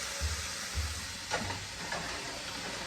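Vegetables for a curry stir-frying in a pan, a soft continuous sizzle broken by a few low scraping stirs, close and fairly quiet with no voices.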